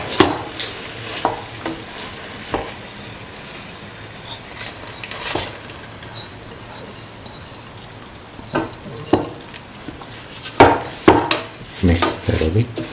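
Rice stirred and mixed in a pan with carrot, beans and coconut milk, giving repeated scraping and clinking spoon strokes against the metal, with a faint sizzle beneath and louder bursts toward the end.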